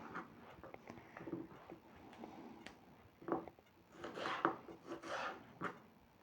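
A knife slicing through peppers being trimmed for honey-preserved winter peppers, with soft rasping cuts and scraping on a board, brief taps at first, then denser slicing toward the end.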